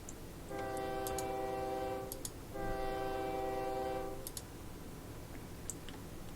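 Two sustained multi-tone train horn blasts from the video game OpenTTD, each lasting about one and a half seconds, with a short gap between them and light clicks scattered over a steady low rumble.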